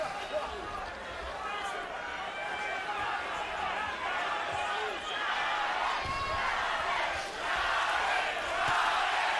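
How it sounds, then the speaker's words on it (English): Boxing arena crowd during a Julio Cesar Chavez Jr. vs Brian Vera fight, chanting steadily in a continuous roar with rhythmic surges, while a commentator talks over it throughout. "We have the crowd beginning to chant Chavez, Chavez."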